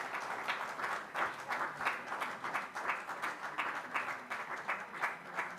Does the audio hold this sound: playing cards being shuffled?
no